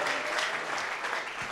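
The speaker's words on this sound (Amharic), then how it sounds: "እስቲ አጨብጭቡ ለጌታ" A church congregation claps in a brief burst of applause that is moderately loud and spread across the room.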